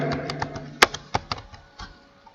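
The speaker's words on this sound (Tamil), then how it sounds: "மைக்ரோசாஃப்ட் லாகின் டைப் பண்ணுங்க." Someone types on a laptop or PC keyboard, producing a close, irregular run of sharp key clicks with one louder tap near the middle.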